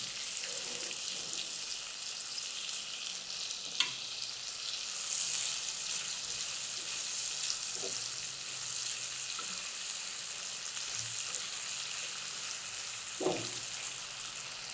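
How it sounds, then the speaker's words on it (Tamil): Tomatoes sautéing with salt in a pan for Molagootal give a steady, close hissing sizzle that runs continuously, with a few faint clicks and stirring knocks. "தக்காளி நல்லா வதங்கும்."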